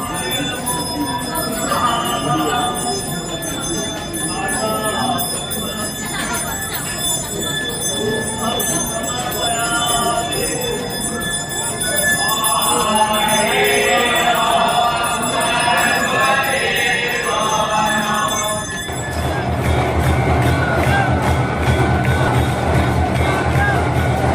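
Dense crowd murmur fills the Mahakaleshwar temple in Ujjain while devotees wait for the evening aarti. The babble runs steady and loud throughout, with faint ringing tones above it and a harsher wash of noise near the end.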